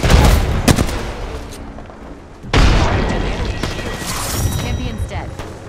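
Gunfire in the shooter game Apex Legends, loud booming shots and bursts of rapid fire with crashing impacts, alongside a voice speaking.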